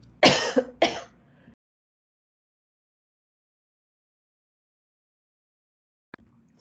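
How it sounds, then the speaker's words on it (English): A close, rough throat clearing with a couple of harsh coughing bursts, followed by a long silence and a faint click at the end. "This is the nice part about a cough."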